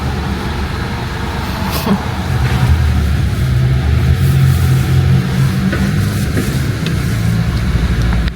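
A car pulls into a parking space outside an IKEA store entrance, its engine droning steadily up close and rising slightly in the middle before settling, with faint background noise and no clear talk.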